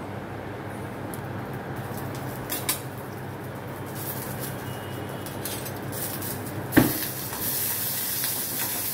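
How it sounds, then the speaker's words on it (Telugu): Green chillies sizzle in hot oil in a pan for tomato chutney, a steady soft frying hiss with a sharp clink near the end followed by brighter, louder sizzling. "కొంచెం నూనె పోసినాను, దాంట్లో వేసుకొని వేయించుకోవాలి పచ్చిమిర్చి"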